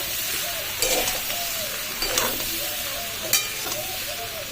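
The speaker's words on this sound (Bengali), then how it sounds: "ভালো করে মিক্স করে আরও 5-6 মিনিটের মতন ভালো ভেজে নেব" Raw mango pieces fry in a pan for pickle, a dense steady sizzle broken by a few sharp spoon scrapes and stirring clacks, close and loud with no speech.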